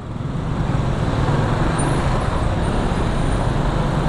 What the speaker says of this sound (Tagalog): Traffic na talaga ngayon.